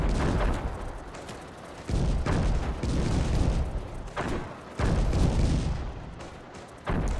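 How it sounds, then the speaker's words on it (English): Grenade blasts from the Panzer Strike retro real-time strategy game: repeated loud, broadband booms about every one to two seconds, each with a sharp onset and a rumbling decay, with no talk over them. "they throw their grenades automatically even"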